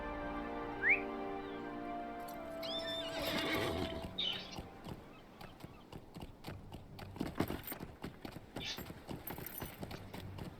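A horse in the LOTRO game gives a bright neigh early on, then a second whinny follows, and hooves clip-clop in a loose walking rhythm, fairly close and clear, with no talking.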